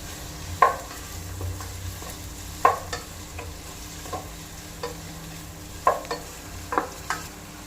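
A teaspoon of plain cumin seeds sizzles in hot oil for chicken pulao. A soft, steady frying hiss runs underneath, with several sharp clinks and stirring knocks of a spoon against the pan, close by and with no talking.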